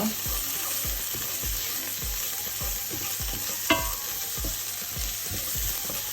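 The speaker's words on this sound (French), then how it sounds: "J'ajoute le concentré de tomate, environ 2 cuillères à soupe. Je mélange bien." Tomato paste fries in a pan for red lentil dahl, giving a constant loud sizzle with evenly spaced spoon strokes scraping the bottom and a single sharp clink partway through.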